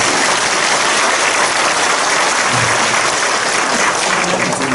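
A church congregation in Incheon breaks into sustained, loud applause, a dense steady wash of many hands clapping together with no voices standing out above it.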